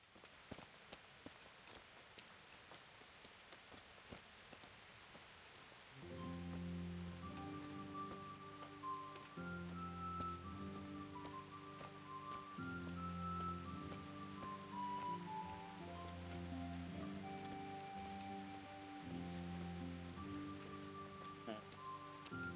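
Steady, soft rain hisses across the whole stretch in the medieval game Kingdom Come: Deliverance, faint and even, with game music joining over it partway through.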